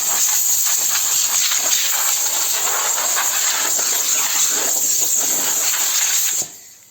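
Compressed air blasts out of a PC case being prepped for clear coat, a loud, continuous close hiss that cuts off abruptly near the end.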